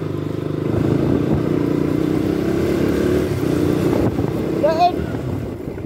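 A KTM Duke 200 motorcycle engine drones steadily while riding, loud and close, with a brief whistling rise near the end and speech-like sound mixed in.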